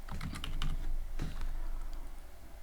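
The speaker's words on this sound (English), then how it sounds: "and I'll type" Steady typing of Python code on a computer keyboard, a close run of quick key clicks with a few louder strikes, no voices.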